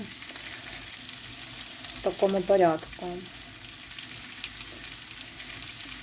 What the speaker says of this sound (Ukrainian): На великому вогні я смажу, накриваю кришечкою